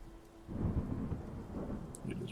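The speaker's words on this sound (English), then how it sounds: "It has started raining," Rain patters steadily under a low, rolling rumble of thunder in the Dwarf Fortress video game, soft and fairly quiet over its short span.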